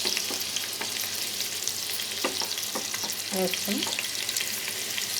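Onions sizzling in a hot pan for egg fried rice, a steady loud frying hiss with intermittent scraping stir strokes, and a few words of talk over it.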